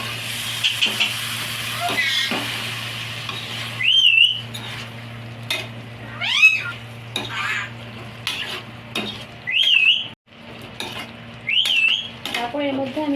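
Potatoes fry in hot oil in a pan over a lowered gas flame, a soft sizzle running under repeated clattering scrapes of a stirring spoon, with short whistling chirps and a voice talking at times.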